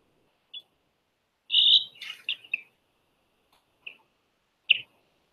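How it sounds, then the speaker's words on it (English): Galapagos mockingbirds give a few short, sharp chirps and a brief burst of calls, isolated bursts against quiet, fairly close. "The island's mockingbirds also caught Darwin's attention."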